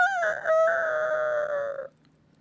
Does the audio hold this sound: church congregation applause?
no